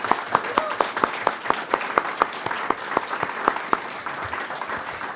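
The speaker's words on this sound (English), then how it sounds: "Please, another round of applause for our recipients." An audience at a public school district board meeting applauds award recipients, a sustained crowd of clapping with a few distinct sharp claps standing out, moderately loud and steady throughout.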